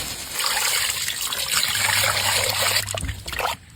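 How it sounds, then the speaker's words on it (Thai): Mackerel being rinsed under a running tap, a steady trickle and splash of water over the fish that fills the clip at close range before cutting off near the end. "นำปลาทูมาล้างนะครับทำความสะอาด"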